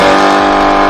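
A loud, close V8 sports car engine roars in a brief, sustained rev, its deep throaty tone holding steady for under a second.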